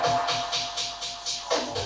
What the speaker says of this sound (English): So I apply an echo and a filter at the same time.